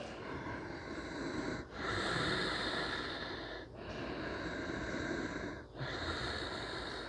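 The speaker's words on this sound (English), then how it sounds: "tightening up that glottis in the back of your throat to make that heavy breathing sound" Slow, heavy ujjayi-style yogic breathing through the nose with a throaty rasp from a tightened glottis, long drawn-out breaths in a steady cycle, close and moderately loud.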